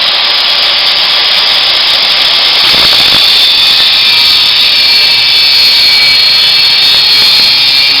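A power tool cuts through metal stock for a Jeep YJ skid plate spacer, giving a loud, steady high-pitched whine and hiss that runs unbroken for the whole stretch with no talking.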